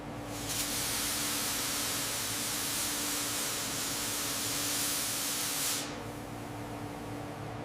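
Black paint hisses out as a fine spray mist onto the bare metal of a 1937 Cord 812 Supercharged Phaeton, a steady broadband rush lasting about five seconds before easing into a softer, lingering hiss.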